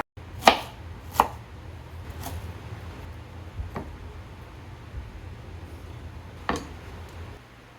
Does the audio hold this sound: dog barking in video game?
no